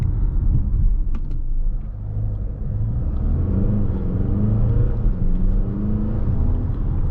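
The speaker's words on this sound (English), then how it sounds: "A nice little acceleration here." Mercedes GLA (2020) accelerating on a night drive: a steady low engine rumble and road roar fills the cabin throughout, rising gently with no talk.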